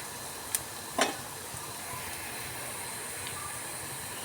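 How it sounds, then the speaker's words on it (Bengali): Crushed garlic and dried red chillies fry in a pan with a faint, steady sizzle, broken by two brief sharp pops or clinks near the start. "তো সবগুলোকে আমি একসঙ্গে খুব ভালো করে একবার ভেজে নেব।"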